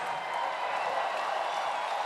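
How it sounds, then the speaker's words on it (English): Crowd at a Hawai'i versus UCLA volleyball match roaring and cheering in a dense, sustained wash of noise filling the arena. "this crowd is raging once more"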